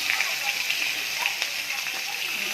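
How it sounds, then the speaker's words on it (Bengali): Green chilies hit hot oil in a wok already crackling with black cumin seeds after fish was fried, a bright, steady sizzling hiss close by, with a voice talking over it. "কাঁচা লঙ্কা দিলাম"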